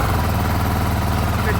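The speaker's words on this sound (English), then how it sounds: "So let's fire up the engine." A BMW G310 GS motorcycle with a weak battery after a month unused runs at idle, its engine a steady low throbbing rumble, close and continuous without any revving.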